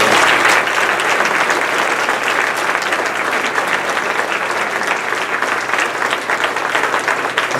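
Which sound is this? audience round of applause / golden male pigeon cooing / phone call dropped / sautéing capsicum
audience round of applause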